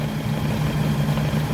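A 2003 Suzuki Carry Futura 1.5 manual idles smoothly with its air conditioning running, a steady, even engine hum with a low drone, close by and without talk.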